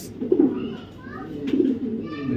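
A racing pigeon of a foreign bloodline from the AR PCD club coos close by in two rolling, throaty bursts, with faint chirps in the background.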